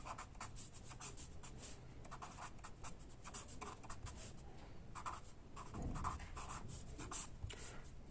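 Chalk or marker scratching steadily across a classroom board during a Hindi-medium science lesson on the human digestive system, with dense, continuous strokes and short pauses, close and fairly quiet, no talk.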